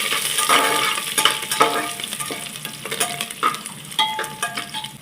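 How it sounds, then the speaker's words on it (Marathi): Curry leaves stirred through hot oil with peanuts over a medium flame, crackling and sizzling steadily with repeated spatula scrapes close by, no voices. "इथे कढीपत्त्याची थोडी पानं घालायची आणि व्यवस्थित छान हलवून घ्यायचं"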